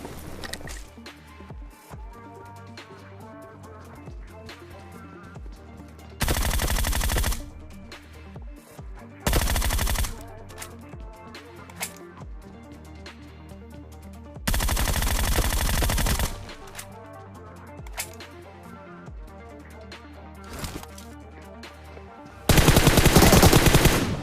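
Groza assault rifle fire at close range in PUBG: several loud, dense bursts of rapid automatic shots, each lasting one to two seconds, breaking over a quieter in-game background with low rumble between volleys.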